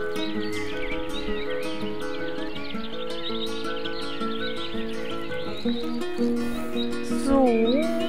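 A horse in the video game Mein Pferd whinnies near the end, a short rising and falling neigh set over light game music and bird-like chirps, with a voice speaking in between.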